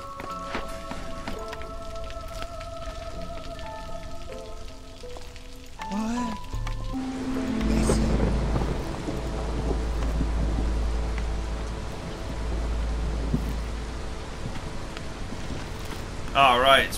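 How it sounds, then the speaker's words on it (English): Rain falls steadily in the strategy video game Against the Storm, a soft continuous patter beneath game music and interface sounds, with a person talking over the top. "It's raining."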